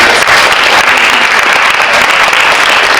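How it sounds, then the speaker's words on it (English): Dense, steady applause fills a senior awards ceremony, loud and continuous with no voices over it. "really, round of applause"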